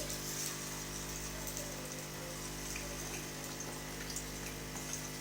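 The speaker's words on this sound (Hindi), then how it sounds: "फ्राई कर लेते हैं रोल्स को" Rolls frying in a pan in a home kitchen, a steady, busy sizzle and crackle of hot oil that keeps going evenly without pause, with no voices over it.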